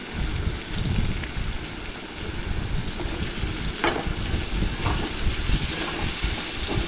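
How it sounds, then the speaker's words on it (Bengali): Cut potatoes and onions fry in oil and are stirred, giving a loud, continuous close-up sizzle with a couple of brief utensil scrapes against the pan. No voices are heard. "আমি নাড়াচাড়া করে আলু আর পেঁয়াজটা ভেজে নিলাম"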